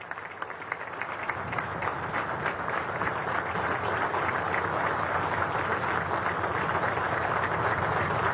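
A crowd in Maracaibo applauds the Bolivarian Navy at a naval parade, sustained dense clapping that builds slightly and stays steady and loud throughout, with no voices heard over it.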